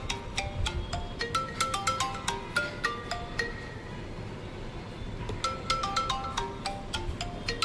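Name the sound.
phone ringtone, incoming call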